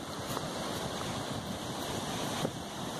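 Steady ocean surf roars continuously beside a jetty, heavy wind noise buffeting the microphone, waves washing in without clear individual breaks.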